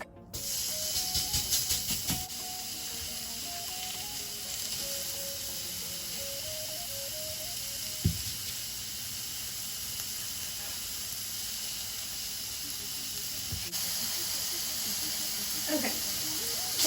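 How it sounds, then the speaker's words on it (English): Chorizo pork sausage sizzles in a hot skillet, a steady broadband hiss and crackle running throughout with faint rattling and occasional louder pops, soft thumps near the end. "now I have my small portion of chorizo, cooking it on the skillet"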